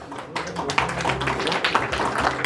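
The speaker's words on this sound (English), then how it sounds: "Round of applause once again for Shiv." Audience applause at an Occidental Insurance Company rebranding event, irregular clapping from a modest crowd with distinct individual claps standing out, fairly close and steady for a couple of seconds.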